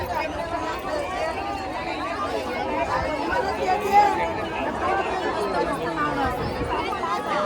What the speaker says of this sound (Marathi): बघा प्रचंड गर्दी आहे.